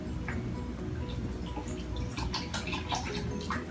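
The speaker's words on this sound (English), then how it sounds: "and I'm gonna add water." Water is poured into a shrimp cocktail being prepared at home, a steady close splashing trickle running throughout with small drips and clinks, no talking.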